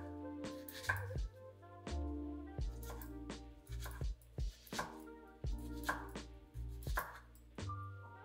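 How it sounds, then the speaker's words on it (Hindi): A knife chops an onion lengthwise on a cutting board, firm repeated knocks falling in short uneven bursts with small pauses, close and clear, with no talking. "मुझे प्याज इस तरह से लेंथवाइज काटना इसलिए अच्छा लगता है और इजी भी लगता है"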